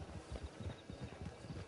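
Hooves of a horse in Red Dead Redemption 2 clop in a quick, soft rhythm, muffled and fairly faint, a steady trot close by with no voices over it.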